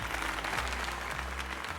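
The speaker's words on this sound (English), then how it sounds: "let us give another heartfelt round of applause to Jolene" Game crowd applause in Pokemon Legends Z-A, a dense steady wash of clapping that runs throughout, with a low tonal music bed beneath.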